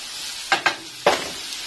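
Chicken thighs and vegetables sizzle in a pan as a spoon stirs them, giving three short scraping bursts over a quiet, steady frying hiss.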